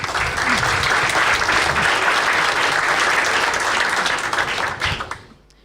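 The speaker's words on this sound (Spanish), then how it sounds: "un aplauso y muchas gracias a todos" An audience at a cultural seminar in Chile applauds in a full, dense burst that holds steady for about five seconds and then fades quickly to quiet.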